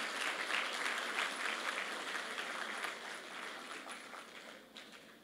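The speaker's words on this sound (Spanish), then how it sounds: "Quiero invitar un aplauso para el autor" An audience at a church book presentation applauds, a dense, fairly faint burst of clapping that slowly tapers off over a few seconds.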